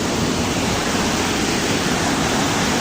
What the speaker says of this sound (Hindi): ये छोटा वाटरफॉल